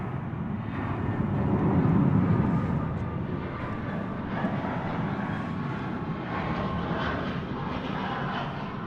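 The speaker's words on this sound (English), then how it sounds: "Delta Flight 568 from Los Angeles. It's an Airbus A320." An Airbus A320 operating as a Delta flight from Los Angeles lands at night, its engines a steady, broad roar that swells slightly early on, then holds at an even, fairly loud level throughout with no talking.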